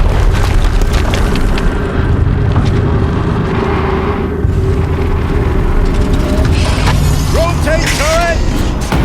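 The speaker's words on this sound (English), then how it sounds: "Another explosion." Explosions in the video game Horizon Zero Dawn: a continuous loud, rumbling blast with heavy low-end roar and mechanical debris, followed by higher whistling and shrieking game effects near the end.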